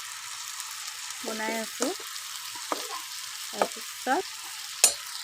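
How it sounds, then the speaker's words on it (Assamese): Ridge gourd and potatoes sizzle in a hot wok with a steady, close hiss, broken by a few sharp stirring clatters, while someone talks over it. "জিকা আলু ফ্ৰাই কৰি ল'ম"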